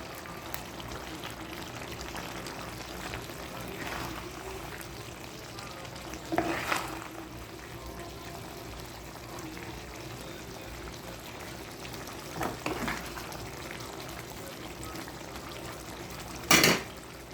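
A vegetable curry with potatoes, banana and eggplant simmers and fries in a pan, a low continuous sizzle and bubbling with occasional louder scrapes of stirring and a sharp clink near the end.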